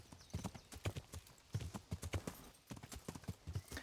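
Rhythmic clip-clop of horse hooves at a steady trot in Kingdom Come: Deliverance, close and moderately loud, with brief gaps between bursts of steps.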